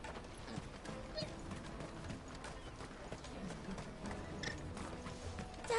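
Horse hooves clip-clopping with a whinny in Final Fantasy XVI, faint game audio with steady hoofbeats under background sound.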